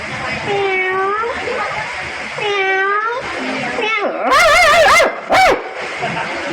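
A stage performer's voice imitates an angry dog and meowing cats, with drawn-out wavering meows, rising yowls and sharp barking bursts, loud and close before an audience.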